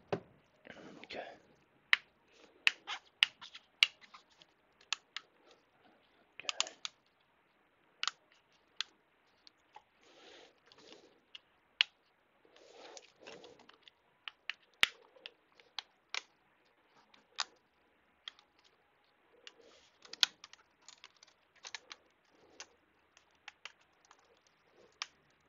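Laptop screen bezel clips are pried loose with a tool on an Acer Swift Go 14 AI, giving sparse, sharp plastic clicks and snaps in irregular bursts against a quiet background with faint handling noise.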